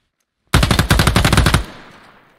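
A sudden burst of rapid automatic gunfire from the tactical shooter game Ground Branch: about a second of loud, evenly spaced shots, then a reverberant tail fading away.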